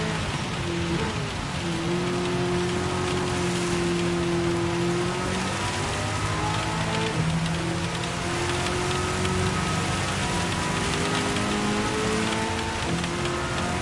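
Heavy rain in a Gran Turismo 7 Le Mans road car race, a dense, constant hiss of rainfall on the track with a racing car engine droning underneath, no talking.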